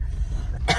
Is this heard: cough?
yes